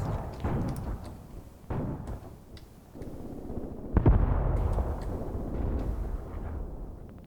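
Continuous battlefield gunfire and artillery from the Graviteam Tactics war game, with dense, booming shots and blasts rolling over one another and a heavier impact midway, loud and sustained throughout.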